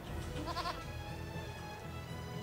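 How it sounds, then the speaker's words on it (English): Goats bleat in a short wavering burst during an Eternal Sonata video game cutscene, fairly faint over a steady background music bed. "What are goats doing in a place like this?"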